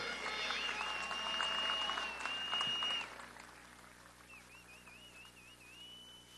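Dense audience applause at a political speech, loud for about three seconds before dropping away, with a sustained whistle over the clapping and a wavering whistle in the quieter tail.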